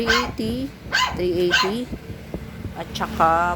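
A dog barks repeatedly nearby in quick bursts of yips and bow-wows, mixed with a person talking over it.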